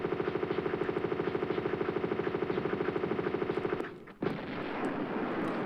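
Rapid automatic M16 gunfire in the Tomb Raider II video game, a steady burst of evenly spaced shots lasting several seconds before stopping abruptly, followed by a brief lower game sound.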